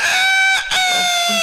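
A person vocally imitates a rooster crowing, a loud, close, harmonic call held for about a second and a half, broken by a short dip in the middle, with no other voices.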